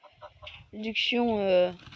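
Geese on a farm give a few short honks, then a loud, drawn-out nasal call close by, with clucking poultry in the mix.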